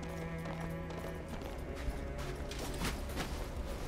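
Horse galloping in Darksiders Genesis, steady quick clip-clop hoofbeats running through the whole stretch amid game ambience and music, fairly close and moderately loud with no voices.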